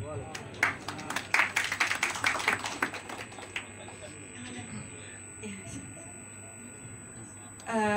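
Audience applause welcoming a guest speaker at a book discussion event: a burst of scattered hand claps over the first few seconds that thins out and fades, with murmuring voices and room noise beneath.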